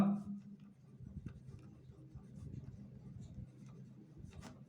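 Pen or pencil scratching across paper while a geometry problem on triangle area is worked out, soft irregular strokes and rubs, quiet and close, with a few faint voice sounds.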